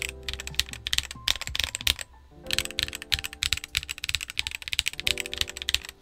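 Typing on a Redragon K649 Elf gasket-mount mechanical keyboard: rapid, close clacky keystrokes in bursts, with a short pause near the middle, quiet overall and with no talking.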